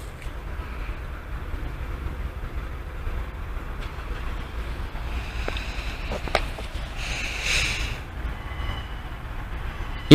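A train running from Worksop to Peterborough passes over the Great Northern Terrace level crossing, a steady low rumble of wheels on rails with a brief brighter squeal and clatter near the end, moderately distant, no talking.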